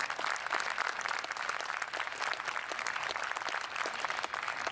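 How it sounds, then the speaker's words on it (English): A school concert audience gives a quiet, distant round of applause for a principal retiring after 34 years, a steady patter of clapping without voices over it. "Give a nice round of applause,"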